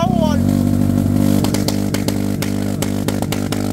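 A small Honda Pop motorcycle engine held at a high, steady rev while stationary, loud and close, with sharp clattering knocks over the droning engine tone.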